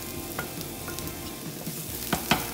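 Garlic sizzles with translucent onions in a pan, a steady close frying hiss with a few soft stirring clicks and scrapes toward the end.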